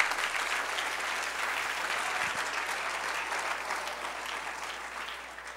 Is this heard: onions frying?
no